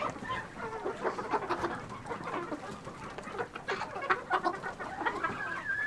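Chickens in a winter barn cluck steadily and close by, overlapping calls rising and falling with a few louder squawks through the stretch.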